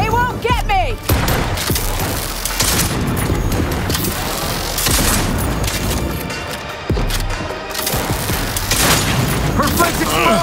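Explosions and heavy gunfire roar almost without pause through a combat scene in the Cyberpunk 2077 video game, loud and dense, with booming blasts and voices speaking over the din.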